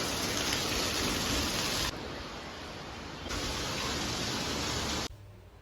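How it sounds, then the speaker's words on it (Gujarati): A heavy rain downpour gives a dense, continuous hiss of water pouring down, dropping in level partway through and stopping abruptly near the end. "ત્યાં તો ધોધમાર વરસાદ ચાલુ થઈ ગયો."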